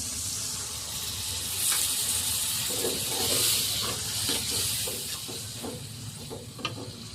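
Water poured into hot pea curry masala in a pan, raising a loud steady hiss of steam with scattered bubbling and a few clinks, close up.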